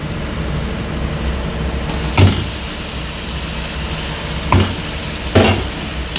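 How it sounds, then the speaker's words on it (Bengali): Onions fried with ginger garlic paste for a rohu fish curry hiss in a loud continuous sizzle close by, with three distinct scraping stirs of a spatula against the pan and no voices. "আদা রসুন পেস্ট দিয়ে এটাকে নাড়তে থাকবে আদা রসুনটাকে খুব ভালো করে ভেজে নিতে হবে"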